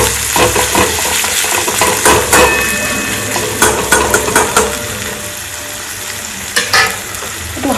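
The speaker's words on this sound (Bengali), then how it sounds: "আধখানা পেঁয়াজ দিয়েছি, এবার এটাকে ফ্রাই করে নেবো ভালো করে" Half an onion fried in a pan for beresta, a loud close sizzle with repeated spatula scrapes and clinks against the pan in an irregular rhythm.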